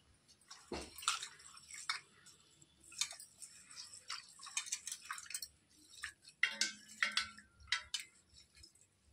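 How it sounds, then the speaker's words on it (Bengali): Rice being washed and rubbed by hand in water for masala khichuri makes soft, close sloshing and splashing, with scattered drips and light grain clinks in an irregular rhythm. "তো চলুন চালটা প্রথমে আগে একটু ধুয়ে নিই"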